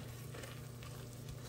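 Shallots and flour cooking gently in butter for homemade seafood coquilles Saint-Jacques, a soft, steady low sizzle with a faint background hum, quiet and even throughout.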